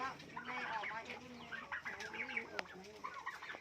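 Turkeys call and gobble in a farm yard, a cluster of warbling, clucking calls rising and falling over about three seconds with a sharp knock near the middle, a voice faintly mixed in.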